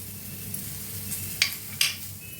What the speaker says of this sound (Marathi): आता ह्याच्यातच जिरं आणि धन टाकूया